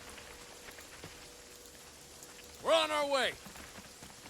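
Rain falling steadily in the video game Jagged Alliance 3, a soft continuous hiss throughout, briefly covered by a loud burst of voiced game sound near the end and a short line of speech.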